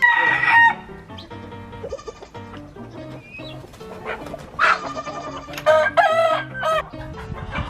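A rooster crows loudly a few times, its calls rising and trailing off, with clucking and other farm animal sounds in between.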